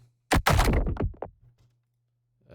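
A heavy crunching impact followed by a few scattering rock-like clatters, then quiet with a faint low hum.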